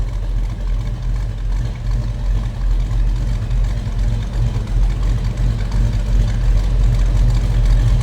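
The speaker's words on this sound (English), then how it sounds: "It's a good sounding car." A 1936 Ford Deluxe Tudor slantback street rod idles steadily up close, a deep, even low rumble with a slight lope that holds for the whole stretch.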